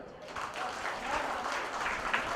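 Audience applause at a Ganesh Utsav community gathering in Thane, a soft, somewhat distant patter of clapping that builds slightly and continues for a couple of seconds.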